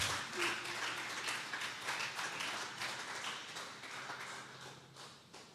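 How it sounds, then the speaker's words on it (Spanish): A church congregation applauding during a sermon: steady, dense clapping from many hands, fairly distant and even in level, with no speech over it. "Vamos a regalarle ofrenda de palmas al Dios de la gloria"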